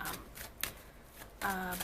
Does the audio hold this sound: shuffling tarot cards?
yes